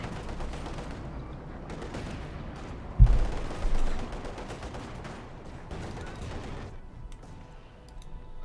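A DShK heavy machine gun firing in Company of Heroes 2, heard as a distant, rattling burst of battlefield gunfire mixed among other combat sounds, with one sharper report near the middle.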